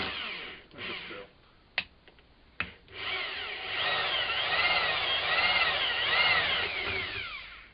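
A power drill with a 6mm bit bores into oak, starting with short bursts and clicks, then running in a long steady whine that rises and falls as the pressure eases and pulses.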